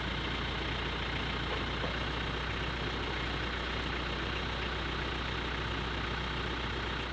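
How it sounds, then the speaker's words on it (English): Tractor engine running at a steady idle, a constant low rumbling drone throughout with no starting sound evident; no talking. "Let me start the tractor up."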